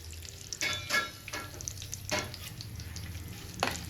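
Urad dal, chana dal, mustard seeds, cumin, dried red chillies and curry leaves tempering in hot oil for gongura pachadi, a steady close sizzle and crackle with a few louder bursts as seeds pop.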